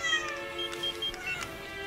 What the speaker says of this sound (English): Don't kill the cat.